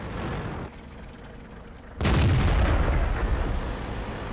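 A Panther tank's main gun fires in World of Tanks: a single loud, close boom lands partway through, then a long rumbling roar follows it, after a quieter stretch of engine drone.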